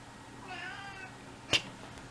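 A cat meows once, a soft drawn-out call near the microphone in a quiet room during a watercolour card-making session, followed by a brief sharp click.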